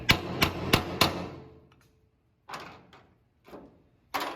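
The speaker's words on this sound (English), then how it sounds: "Take a punch, drive a little guider in it." Four quick metallic hammer strikes on a punch at a spot weld on a classic truck roof, followed by a few softer, scattered taps and scraping knocks on metal.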